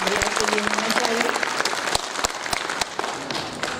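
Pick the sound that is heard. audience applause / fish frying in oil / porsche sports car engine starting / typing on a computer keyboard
audience applause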